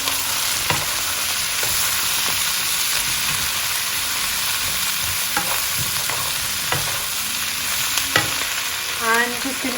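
Potato chunks fry loudly in a pan of cauliflower chickpea curry, a steady close sizzle and hiss with occasional scraping knocks from stirring throughout.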